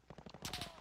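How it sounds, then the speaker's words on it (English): Rapid bursts of gunfire in a Call of Duty Modern Warfare match, a quick run of close, sharp shots followed by a louder, denser volley. "Where'd that shot come from?"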